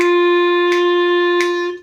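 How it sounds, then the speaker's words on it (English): A clarinet holds an open G as a single steady whole note, a close, clear sustained tone with faint breathy clicks from a count tapped behind it, before tapering off at the end. "We play a G in whole notes, and it's going to sound like this."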